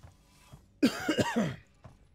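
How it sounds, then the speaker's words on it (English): A single short burst of coughing, close and fairly loud, with quiet breathing before and after. "Pardon the cough, by the way."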